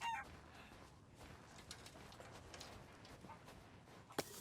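Chickens cluck in the game Resident Evil Village, several bursts of soft, scattered calls from nearby mixed with faint background game noise, and no talk over them.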